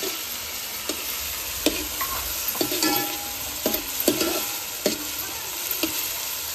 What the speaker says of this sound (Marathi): असा नेहमीप्रमाणे आपला लालसर होईपर्यंत आता फ्राय करून घेऊया कांदा.